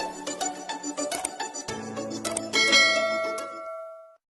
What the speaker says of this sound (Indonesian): klik subscribe dan juga aktifkan lonceng notifikasinya